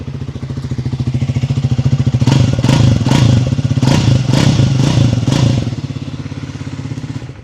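A Triumph Speed 400 motorcycle idles with a throbbing exhaust, then revs in a series of sharp bursts before settling back to idle, loud and close.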